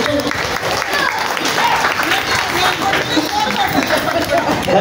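Audience clapping together at a Dasara Navaratri festival at a Sri Basaveshwara temple, a steady, dense burst of applause that fills the space evenly from start to end.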